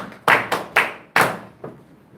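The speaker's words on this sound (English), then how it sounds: "Give her a round of applause." A few people clap in short, separate bursts, about five distinct slaps with gaps between them, fairly close and sparse, at a small religious study gathering.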